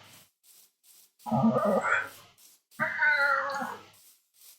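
A cat in the Minecraft video game meows twice, each a clear, fairly loud call separated by a pause, with faint soft game sounds ticking in the background.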